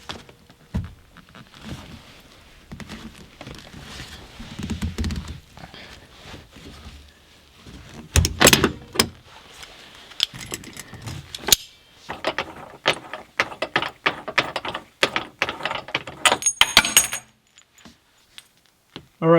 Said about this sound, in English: as you saw there, the vice grips ended up working